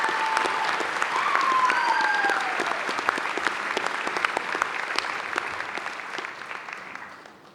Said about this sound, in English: Another round of applause for Arizona